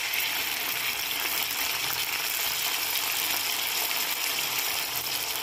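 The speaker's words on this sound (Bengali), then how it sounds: "এবার আমি জলটার মধ্যে লবণটা গুলিয়ে রেখেছিলাম," Salted water poured into hot oil in a pan of frying potatoes, giving a steady, loud, dense hiss and gush that holds unbroken for several seconds close to the microphone.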